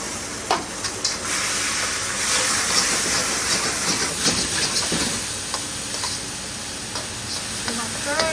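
Seasoned meat fries for stir-fry noodles, a loud hissing sizzle with intermittent stirring scrapes and clinks, close by and continuous throughout.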